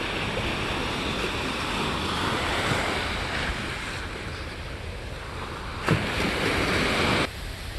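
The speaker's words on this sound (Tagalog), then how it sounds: "Ang taas talaga ng alon ngayon, oh. High tide daw." Heavy surf roars continuously at high tide in Gyeongju, with wind buffeting the microphone, and a louder wave surges in near the end.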